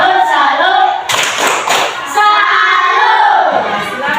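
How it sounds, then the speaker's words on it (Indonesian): A classroom of students gives a group salute clap for presenting classmates, rhythmic bursts of clapping mixed with chanting voices, loud and close, easing briefly in the middle before picking up again. "Kita beri tepuk salut."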